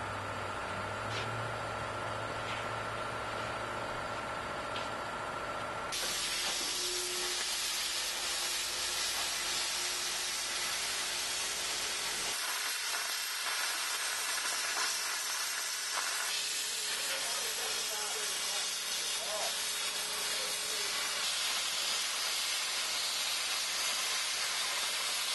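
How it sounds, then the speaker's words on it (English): Steady hissing roar of an oxygen-acetylene torch cutting through metal pieces, a continuous broadband rush that shifts in tone partway through, loud and close with no voices. "they're done with just a torch, the regular oxygen acetylene torch. I'll cut those out."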